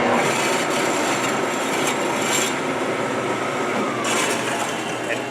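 A horizontal band saw runs and cuts, giving a continuous rasping, grinding hiss at close range with a few brief bursts along the way.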